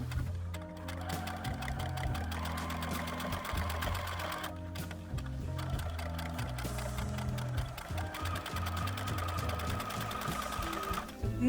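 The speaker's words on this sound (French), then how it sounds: "je vais donc aller coudre à la machine, ici, en laissant le bas ouvert" A sewing machine runs continuously, stitching fabric for an Easter hen-head egg cup, with a steady, loud mechanical whirr and rapid needle rhythm throughout.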